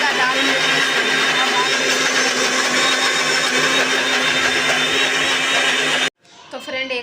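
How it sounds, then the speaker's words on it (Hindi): An electric mixer grinder pulverizing dal lentils, a loud continuous whirring drone that cuts off abruptly near the end, followed by someone speaking. "इनका दाल मैं पीस रही हूँ"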